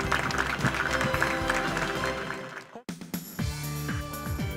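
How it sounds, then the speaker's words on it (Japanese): Applause from an audience following a rescue team drill using ladders and ropes at a public event, heard amid music and crowd noise, breaking off briefly before resuming more faintly. "会場からは大きな拍手が送られました"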